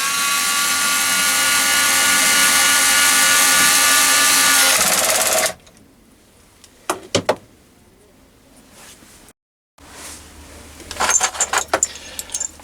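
A MOHOO 3.6V USB cordless electric screwdriver whirs steadily for about five seconds, then stops, followed by a few clicks and light rattles.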